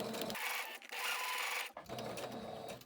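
Sewing machine stitching a homemade N95-type mask: a continuous close mechanical whir that breaks briefly twice, then runs on steadily.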